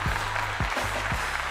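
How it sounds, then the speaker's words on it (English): Audience applause at a live talk show, a steady wash of many hands clapping throughout with a low hum underneath. "Round of applause"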